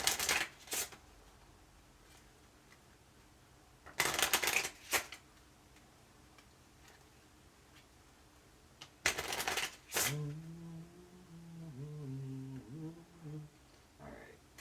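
Cards Against Humanity cards are shuffled during a tarot reading in three quick riffling bursts, close and crisp, with a soft voice talking in between.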